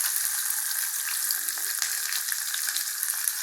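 Onions sautéing with fennel seeds in sesame oil for a Tamil gravy, giving a steady, close, even sizzle with faint scattered crackles throughout and no talking.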